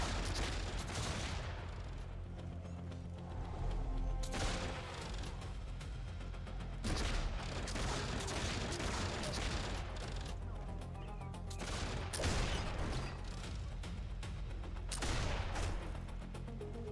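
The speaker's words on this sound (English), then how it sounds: "Stop shooting. Gun turret hits for 104." Sustained bursts of gun turret fire in the online game Warhammer Online, with loud, dense volleys that swell and ease in repeated waves throughout, with no talk over it.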